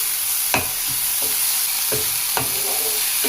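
Ginger garlic paste sizzles in a pan for tomato curry, a loud, even hiss punctuated by about five sharp scrapes and knocks of a stirring spoon, with no voices.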